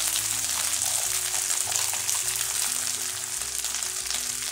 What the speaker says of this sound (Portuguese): E vou deixar essa carne começar a fritar.